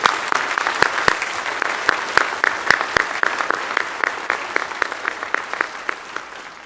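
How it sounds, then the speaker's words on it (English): An audience applauds award-winning band students at a school spring band concert, a steady, moderately close patter of many hands with a few sharper individual claps standing out. "Let's give a final round of applause for all these students for receiving this award."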